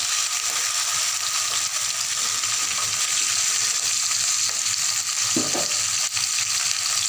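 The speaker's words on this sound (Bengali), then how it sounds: "এই জাস্ট একটু নেড়ে আমি জল ঢেলে দিলাম" Water hitting a hot pan and being stirred, a steady broadband sizzle with a brief bubbling burst midway, close and continuous with no voices.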